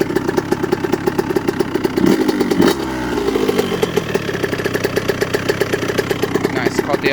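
A 1998 KTM 65 dirt bike engine idling low, close and loud: a rapid, steady two-stroke putter with a brief revving surge near the start, then settling back into an even idle while someone talks over it.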